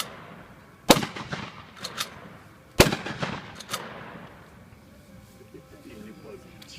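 Two sharp, loud gunshots about two seconds apart from a firearm in semi-automatic mode at an outdoor weapons demonstration, each followed by echoing rumble, with voices speaking faintly afterward.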